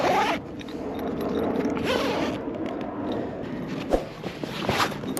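The zipper on an Oztrail Sundowner 900 canvas swag is pulled along its track, a close, continuous rasping slide, followed by a few scuffs and handling knocks, with no talking.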